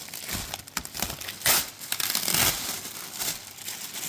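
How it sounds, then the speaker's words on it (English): Nasty old tape and plastic being peeled and pulled off a crashed BMW E36, heard up close as loud crinkling and tearing in irregular bursts with brief pauses. "we're gonna remove all this nasty, cruddy tape and plastic"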